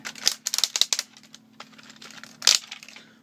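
A Transformers Armada toy figure gives off quick, sharp plastic clicks from its ratcheting joints, in irregular close bursts over a few seconds.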